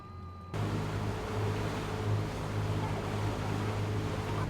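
A sailboat sailing from Greece to Italy with sails up and one engine still running: after a quiet start, a steady low engine drone with rushing water and wind noise sets in and holds, no talk.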